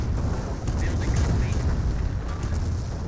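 Artillery barrage in the video game Company of Heroes: a heavy, continuous rumble of overlapping explosions and booms, with a voice talking over the dense roar.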